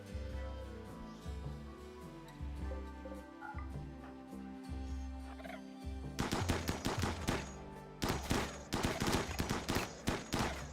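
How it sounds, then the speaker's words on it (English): Video game gunfire on a shallow-water map, rapid bursts of automatic shots crackling in dense clusters over a droning low background, loud and close with no speech. "Please gun them down."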